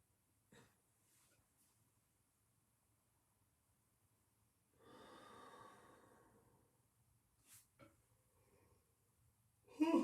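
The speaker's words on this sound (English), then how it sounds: "I think I yawned in every one of these" A person's yawn during a meditation breathing session, a single drawn-out breathy exhalation in the middle of a quiet room, bracketed by a few soft breaths and a short louder vocal burst at the end.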